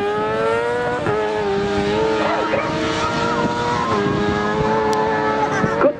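Racing sidecar outfits at the Tonfanau road race, including John Morphin's number 4 machine with crewman Paul Halliburton, howl past in a steady, loud engine drone with shifting pitch and brief skids, a commentator talking over it.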